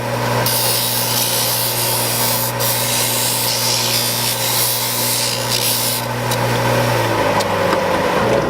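A model trimmer grinds an extremely hard dental die stone with a steady, loud, continuous abrasive rasping whine that holds evenly before winding down near the end.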